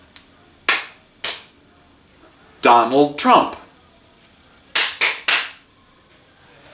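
Hand claps in a rhythm exercise: two single claps, then a quick syllable-patterned phrase spoken aloud, then three claps in a tight cluster, crisp and close, set apart by brief silences.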